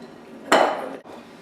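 Vanilla cookie dough being mixed after flour is added, heard as a single loud scraping, clattering burst against the bowl lasting about half a second before it drops back to quiet.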